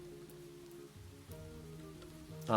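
Heavy rain in the video game My Liege: a faint, steady patter under soft sustained musical tones, rising slightly at the very end.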